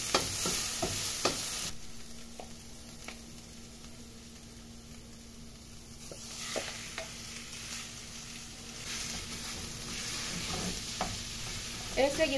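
Ground beef and onion frying together in a pan, a quiet steady sizzle with a few soft scrapes and clicks of stirring, faint and close with no talking.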